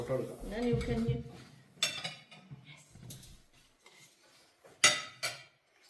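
A large spoon is picked up among serving dishes at a mandi meal, giving a few scattered metallic clinks and clatters. Voices talk briefly at the start, and the clinks come out clearly in the quieter gaps.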